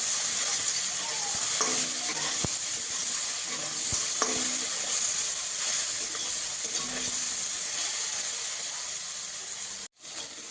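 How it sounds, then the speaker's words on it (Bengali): Potato and eggplant chunks frying in oil with turmeric for a Bengali cane-shoot greens dish, a steady close sizzle with repeated spatula scrapes and stirring clatters across the pan. "ভালো করে নাড়াচাড়া করে আলু আর বেগুনটা একটু ভেজে নেব।"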